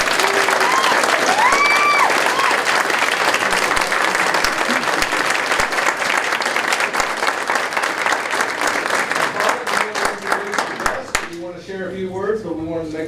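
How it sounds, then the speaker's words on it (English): A school board meeting crowd in Ponca City, Oklahoma claps loud and sustained for a high school orchestra, dense applause with a few scattered voices that thins out near the end as a speaker starts talking. "Let's give them a round of applause."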